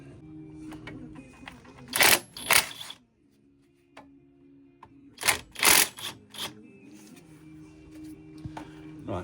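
Brake caliper bolts on a 2007 Ford Focus being loosened, heard as two bursts of sharp metallic ratchet clicking separated by a quiet pause, close and with no talk.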